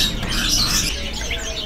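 A perkutut zebra dove at a bird-market kiosk gives brief bird calls and chirps over a busy, noisy market background, fairly close and steady throughout.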